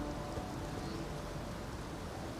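Rain falls in the video game Elden Ring as an even, unbroken hiss that holds at a moderate level for the whole stretch, with no speech.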